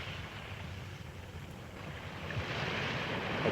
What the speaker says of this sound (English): There is nothing but the sound of crashing waves.